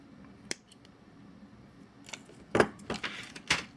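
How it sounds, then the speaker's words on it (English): Sharp metallic snips as excess wire is cut from a handmade bead ring, a few crisp clicks scattered over a few seconds with faint rustling of tools and wire between them, close and fairly quiet. "I'm just going to trim off a little bit of this excess."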